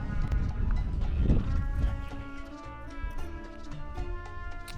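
Livestock calls out in the open, several loud bleating or lowing cries in quick succession with overlapping animal voices, close and clear with no talk.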